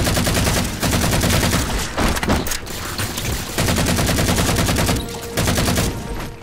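Sustained automatic gunfire from the Halo 4 campaign, dense rapid bursts running loud almost the whole time with a couple of short breaks, layered with game sound effects and no talking.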